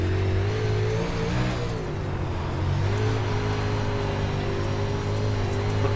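A UMP Modified race car engine at Lanier in iRacing drones loud and continuously, its pitch rising and dipping slightly as the throttle is worked around a slick dirt track.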